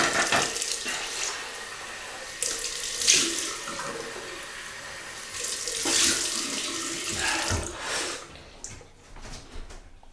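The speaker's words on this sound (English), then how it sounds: "Cold water rinse." Water runs from a tap in a steady splashing stream, with brief surges and clatter as something is rinsed under it; no voices.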